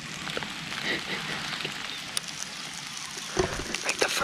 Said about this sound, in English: We're getting rained on.